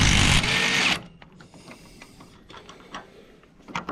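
An impact wrench rattles the top nut off a Holden VZ front strut, giving a loud close mechanical burst that stops abruptly, followed by quieter clicks and small tool handling sounds.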